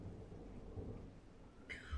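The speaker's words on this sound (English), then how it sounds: "Rain pounded against Elena Torres' windshield." Thunderstorm with heavy rain, a sound effect for a narrated horror story set on an empty highway at night: a low, continuous rumble of thunder and steady downpour, with a brighter rain spatter rising near the end.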